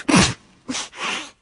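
A sharp sneeze bursts out, followed a moment later by a second, softer breathy sneeze, close and clear with no talking.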